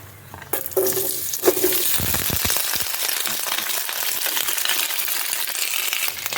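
Sliced radish goes into hot oil with dried red chilli and a bay leaf for a matar dal. A brief clatter as it drops in gives way to a loud, continuous sizzle with light stirring scrapes, and no voices.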